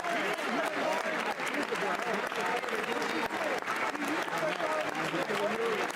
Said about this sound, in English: These guys are clapping for a really long time.